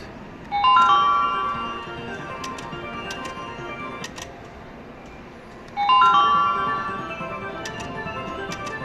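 High-limit slot machine at the Borgata casino chimes with bright ringing dings, one burst near the start and a second a few seconds later, over steady casino floor noise.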